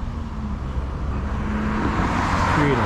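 Dense, steady roadway noise from heavy traffic in Bridgeport, Connecticut, a continuous low rumble of idling and moving cars with no voices, growing slightly louder toward the end.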